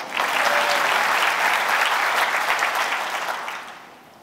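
Audience applause at an Ohio trauma-informed care summit panel, steady and full from the start, fading out over the last second.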